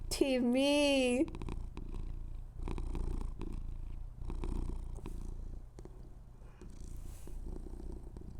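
Opening with a loud, wavering high vocal sound, then a cat's continuous purr rumbles right at the microphone, rising and falling with each breath.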